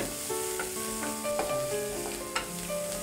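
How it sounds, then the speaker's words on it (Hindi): Finely chopped onion frying in a pan, a steady close sizzle with stirring clinks over faint background music, no voices. "अभी हम इसमें डालेंगे बारीक कटा हुआ प्याज और इसे वापस 1 से 2 मिनट के लिए भून लेंगे।"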